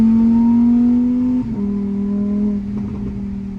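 A Lamborghini Huracan's engine revs loud and close, a strong sustained tone rising slightly in pitch before easing back and settling into a steady drone, with no voices.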